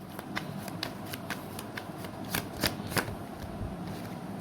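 Tarot cards being shuffled close by, a steady papery riffle with sharper snaps around the middle, alone with no talking.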